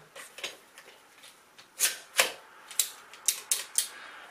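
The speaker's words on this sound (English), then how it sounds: "Stick it in our caulking gun." A caulking gun is squeezed and clicked as it is loaded and readied for applying caulk while painting a room. It gives a series of sharp mechanical clicks and ratchets, sparse at first and then quicker, close and fairly quiet.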